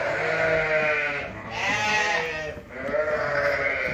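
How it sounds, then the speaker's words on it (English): A ewe in the middle of lambing bleats loudly and close by, several drawn-out cries with short pauses between them and no talking. "there's just a sheep lambing"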